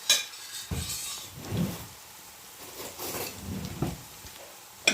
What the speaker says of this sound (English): So now I'll let it all fry together, and I will put my salt now.